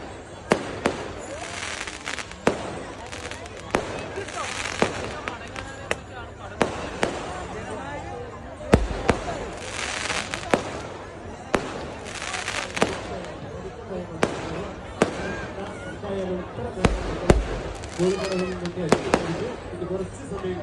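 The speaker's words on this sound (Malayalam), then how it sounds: "അപ്പോൾ അത് കഴിഞ്ഞ ശേഷം പിന്നെ വെടിക്കെട്ടായിരുന്നു. നല്ല കളർഫുൾ വെടിക്കെട്ടായിരുന്നു കേട്ടോ." A temple festival fireworks display at Ayyappan Vilakku crackles and booms repeatedly, sharp bursts spaced every second or two over a murmuring crowd and background festival noise.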